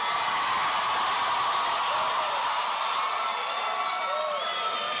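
A large crowd at a Bernie Sanders political rally in Oklahoma cheers and roars continuously, a dense, steady wall of whoops and applause filling the space.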